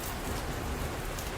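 Steady rain falls in a dense, even hiss of countless drops hitting surfaces, soft and continuous throughout, with no voices.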